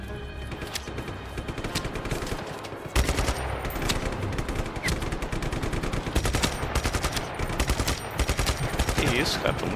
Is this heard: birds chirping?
no